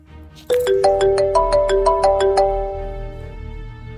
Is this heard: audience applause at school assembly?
no